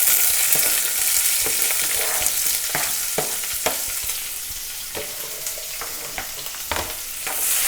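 Onions and ginger stir-fry on a high flame for noodles, a loud, close, bright sizzle broken by repeated scraping and tossing strokes of a spatula, with no talk.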